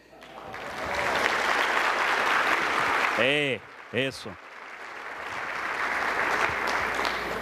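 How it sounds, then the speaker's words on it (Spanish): A conference audience applauds after a talk, a steady crowd clapping that briefly drops while someone speaks a couple of short words over it, then swells again. "Creo que el aplauso fue muy pobre"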